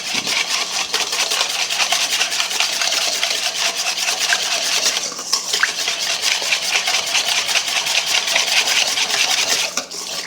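A sauce being whisked in a pan before pork chops go in, a steady, close scraping and rubbing rhythm that runs continuously without pause.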